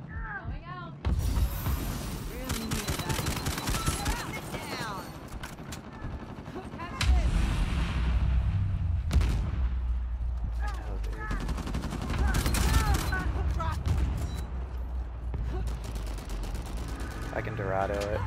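Bursts of gunfire and explosive blasts from an Uncharted 4 multiplayer match run through the whole stretch, mixed with game effects, while players talk over the action.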